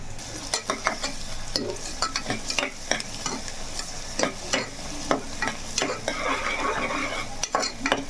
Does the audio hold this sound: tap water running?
no